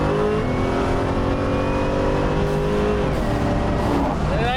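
A rebuilt Buick Regal G-body accelerates hard on the street, its engine roaring loud and near with a rising, wavering pitch as the revs climb and shift.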